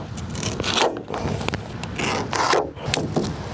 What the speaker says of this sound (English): shape the back here to match the transom on each of these and do some sanding then